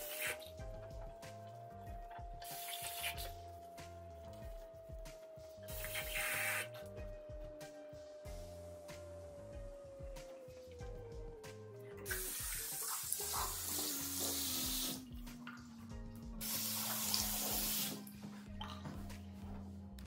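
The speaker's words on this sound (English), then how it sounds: "now that I'm done washing my face" Tap water running into a bathroom sink while a face is washed, a steady close splashing stream with shifting bursts of rinsing and hand movement over a continuous faint hum, no talking.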